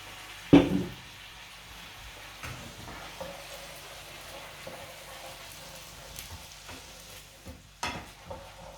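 A soft, steady sizzle from a frying pan of boiled barley, with a sharp splash of white wine hitting the hot metal near the start and occasional clinks.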